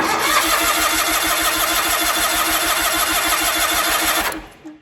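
An Allis Chalmers 919 Hydro garden tractor engine cranks loudly and close, with a steady rhythmic chugging for about four seconds before it cuts off abruptly.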